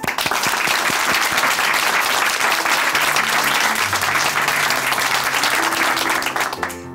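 An audience at a church testimony program applauds loudly and continuously, a dense wash of clapping sustained throughout before fading near the end as music begins.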